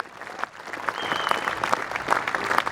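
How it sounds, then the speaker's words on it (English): Spectators applauding the women's singles medalist at a world bowls championship final, a moderate, scattered outdoor clapping that builds slightly, with individual claps audible and a faint whistle partway through. "Please give another round of applause for our women's singles medalist"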